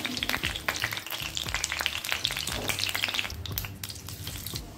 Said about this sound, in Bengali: আর বাকি যেগুলো আছে সেগুলোকেও একইভাবে আমি ভেজে নেব